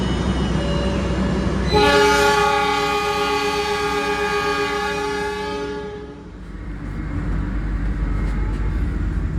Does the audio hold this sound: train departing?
yes